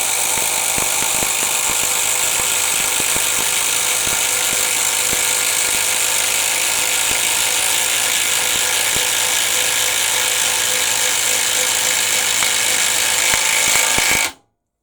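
Makita and Bosch impact drivers race to run lug nuts, a continuous high, hammering whine with rapid rattling impacts that holds steady for about fourteen seconds before cutting off abruptly.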